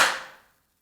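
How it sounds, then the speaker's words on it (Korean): A single sharp hand clap during a talk, loud at the onset and ringing out briefly with a short decay into silence. "박수 소리가 울려 퍼졌어요"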